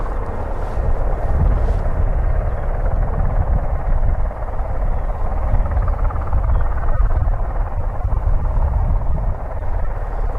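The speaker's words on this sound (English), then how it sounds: "So what is this aircraft? Osprey, V22" A V-22 Osprey tiltrotor at an airfield gives a steady, loud, broadband rotor roar that holds constant throughout, with some wind buffeting on the microphone.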